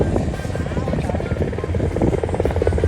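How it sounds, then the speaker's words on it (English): A helicopter passes over New York City, its rotor chop loud and steady, a continuous thudding drone that fills the scene. "they have helicopter tours too."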